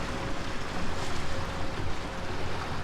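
Houseboat motor running flat out on the River Murray, a steady broadband rushing roar of engine, water and wind noise with no pauses, close and loud.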